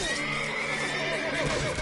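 A horse in the video game Witcher 3 gives a short, loud neigh that rises and wavers, with a faint hoof clatter underneath.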